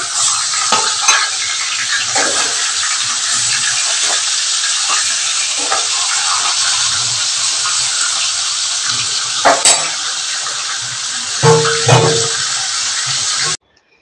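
A hilsa fish head cooks in a pan with a loud, steady sizzle. Occasional scrapes and clinks of a utensil against the pan cut through it, and the sound stops abruptly at the end.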